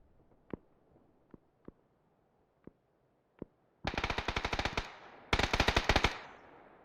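Gunfire in PUBG: a few scattered single shots, then two long bursts of rapid automatic fire, sharp and loud, separated by a short pause, no talking.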